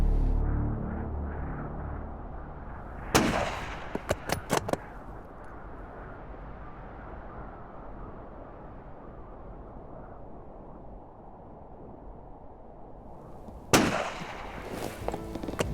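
Rifle shot at a bull moose in the mountains of Newfoundland, a sharp loud crack followed by short echoing reports, then a second loud shot later over quiet outdoor ambience.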